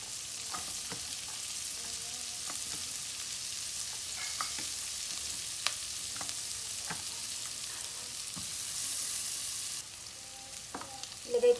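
Garlic and then onion sautéing in butter for a turkey soup, a steady close sizzle and crackle with occasional stirring clicks, continuous throughout with no talking.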